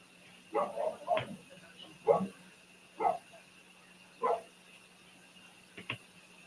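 A dog barks about six times in separate sharp bursts spaced roughly a second apart, fairly close and moderately loud over a quiet background hum.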